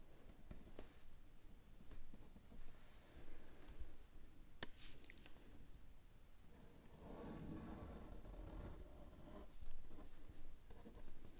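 A pen scratches steadily across paper while a graph is sketched by hand for a cubic inequality problem, soft, close strokes and scribbles with brief pauses and no talking.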